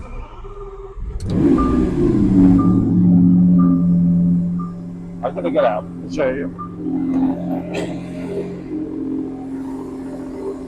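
A 2019 Lamborghini Aventador SVJ V12 engine cranks and roars to life with a loud rising rev, then settles into a deep cold-start idle while someone talks over it.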